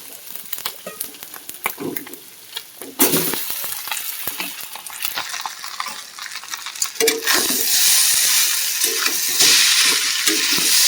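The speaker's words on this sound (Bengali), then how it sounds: "ওই যে টেংরিটা ভেজে রাখবো, হালকা একটুখানি তেল দিই" Tengra fish fry in a little oil in a wok, the sizzling rising and crackling louder as ingredients go in, with intermittent scraping and stirring of a spatula against the pan and no talking.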